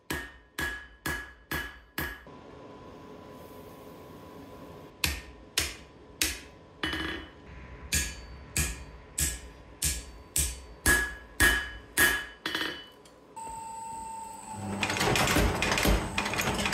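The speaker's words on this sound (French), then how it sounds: "Je replie l'acier en 3 comme un accordéon." Folded steel is hammered at the forge while making a Damascus dagger, with rhythmic sharp metallic blows in quick bursts of several strikes separated by pauses, close and loud, ending in a rising roar like a forge blower.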